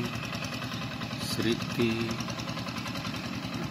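A tractor engine running steadily in a rice field, a continuous rhythmic mid-pitched chugging at moderate distance, with someone speaking briefly over it.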